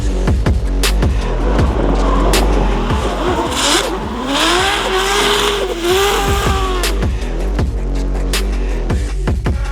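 A McLaren MP4-12C GT3 race car converted for drifting roars loudly and continuously, with rising and falling engine pitch and squealing tires as it slides, heard close throughout.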